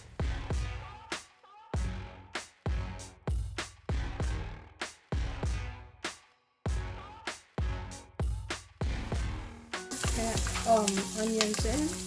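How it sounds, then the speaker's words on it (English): Ham fat and onion frying in a pan, a close sizzle broken into about a dozen bursts by steady stirring strokes, growing to a denser continuous crackle near the end. "place your onion and stir it until it's translucent."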